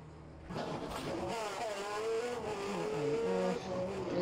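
Onboard a race car at the 1988 Spanish Grand Prix, the engine howls loud and close, with rising and falling revs as the car shifts and accelerates over a few seconds.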